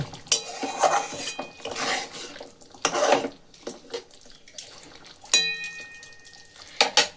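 A spoon stirring green chillies and raisins in a pan for a paneer dish, with scraping strokes and metallic clinks in irregular bursts, close and moderately loud.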